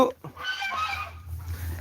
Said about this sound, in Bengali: এখানে কবুতর পাখি রয়েছে এবং দেশীয় মুরগ রয়েছে